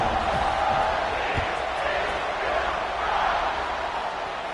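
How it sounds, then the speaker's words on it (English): A stadium crowd in the NCAA 26 college football video game, North Carolina vs TCU, roars in a steady, continuous wash beneath a commentator's play-by-play. "this crowd now ready to get behind them"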